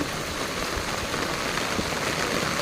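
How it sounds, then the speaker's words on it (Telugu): Heavy rain pours steadily during a storm that is flooding roads in Warangal, a dense, continuous hiss of falling water and drops hitting surfaces, close and fairly loud with no voices. "కార్లు మునిగేంత వర్షం మొత్తం వరద ఉందంట"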